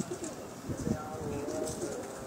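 Pigeons coo softly in low, throaty pulses on a rooftop coop in Jeddah, with the sound partly masked by voices talking and a steady background hum.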